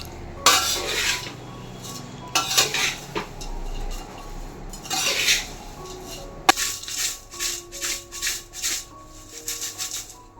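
Thin poha chivda is tossed with powdered sugar in a metal vessel, bursts of dry rustling and shaking with clinks of metal, close and intermittent, ending in a series of rhythmic rattling tosses.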